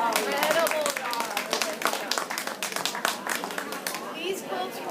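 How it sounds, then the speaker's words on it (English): An audience claps in appreciation at a quilt contest announcement, a dense, sustained patter of many hands with scattered crowd chatter mixed in, fairly close and steady throughout. "we would like to all give a round of applause for AQS for the incredible job"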